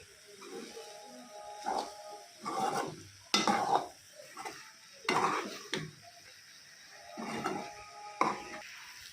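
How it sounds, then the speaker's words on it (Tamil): Ridge gourd and grated coconut sautéed in a pan, with repeated bursts of stirring and scraping from a spatula over a soft sizzle, close by, with quiet pauses between strokes. "சேர்த்து நல்லா வதக்கிக்கலாம்"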